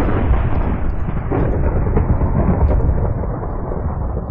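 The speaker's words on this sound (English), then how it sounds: "you gotta love a Minecraft thunderstorm." Thunder rolls through a Minecraft thunderstorm as a loud, continuous low rumble lasting several seconds, with no break and no voices.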